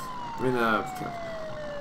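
A police siren on a Ford F450 police truck in Farming Simulator wails in a steadily falling tone across the whole moment, with a brief burst of speech over it near the start.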